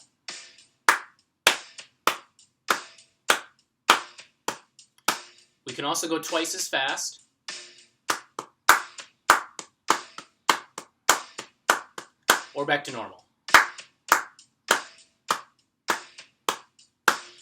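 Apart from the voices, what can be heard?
hands clapping along on each beat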